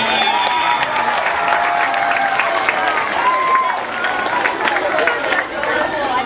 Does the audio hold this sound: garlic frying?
no